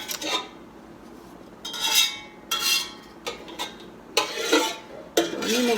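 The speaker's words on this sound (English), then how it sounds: "I use my scoop because I want to get the brine in there as well" Metal scoop clinking against a glass jar as bread and butter pickles, onions and brine are spooned in, several irregular bursts of clatter and splashing separated by brief quiet gaps.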